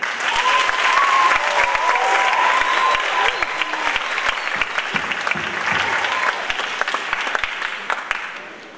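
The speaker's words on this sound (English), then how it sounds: "Please give them a round of applause." Concert audience applause for a school symphonic band, many hands clapping loudly at first and then thinning out, with scattered individual claps standing out near the end.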